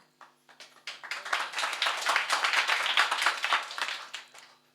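Audience applause at a Hanuman Jayanti kirtan, a dense burst of many hands clapping that swells in, holds steady for a few seconds and then tapers off, with no voices over it.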